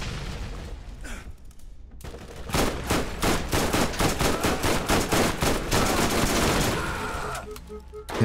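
Rapid automatic gunfire from a gun in the co-op shooter video game Borderlands, a long unbroken burst of evenly spaced loud shots lasting several seconds, with brief scattered pops before and after.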